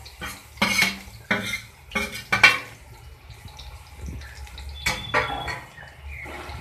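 Onions and green chilli are stirred in a cooking pan for a potato-tomato curry, with a spatula scraping and clanking against the metal in several bursts of strokes, close by, with no talk.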